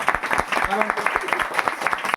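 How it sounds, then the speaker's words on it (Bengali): A church congregation at a New Year service claps its hands in a rhythmic, uneven patter close by, mixed with voices that sing or talk over the clapping. "আমরা সবাই হাত তালি দিই।"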